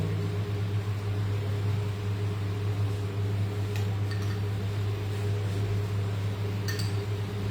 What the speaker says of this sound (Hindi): Let me start my induction first.